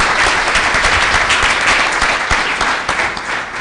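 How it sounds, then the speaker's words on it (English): An audience at a state FFA convention session gives a round of applause, loud dense clapping throughout the short stretch. "Let's just give her a round of applause, should we?"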